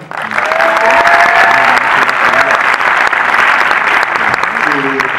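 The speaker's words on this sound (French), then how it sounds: "que vous pouvez applaudir" A cinema audience applauds at a film presentation, a loud, dense, continuous clapping that swells within the first half second and holds steady, with a voice briefly speaking over it.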